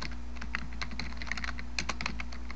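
Rapid, uneven clatter of keys as a command is typed on a computer keyboard, close and clear over a low steady hum, with no talking.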